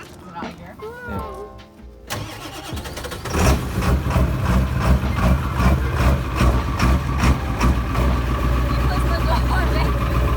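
A truck engine idles close by, a steady low rumble that swells louder after a few seconds and holds, with people talking over it at first.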